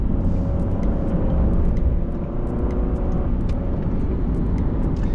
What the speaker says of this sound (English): let's wait for the cars to pass